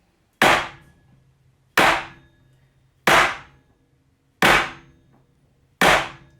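Filled macaron trays banged down on a kitchen counter to knock air bubbles out of piped coffee macaron batter: five loud, sharp bangs at evenly spaced intervals, each ringing briefly before quiet returns.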